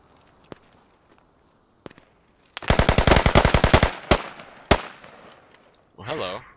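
Gunfire in the shooter game Squad: a few isolated shots, then a loud rapid automatic burst, followed by two more separate sharp shots, with speech briefly at the end.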